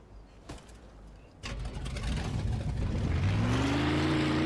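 A car engine in the video game Mafia 2 starts and revs up, its whine climbing in pitch and growing louder over a few seconds.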